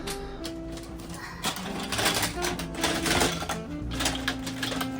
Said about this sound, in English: Sorry if there's some clicking and noise in the background. My daughter is playing with some magnet tiles.